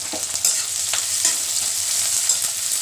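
Cumin, onion and chopped chilli frying in a pan, a steady bright sizzle with occasional stirring scrapes and clicks, close and continuous without speech.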